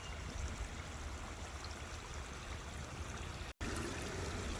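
Water in a brook flows over rocks placed to slow it during spring runoff, a constant close rushing burble with one brief dropout near the end.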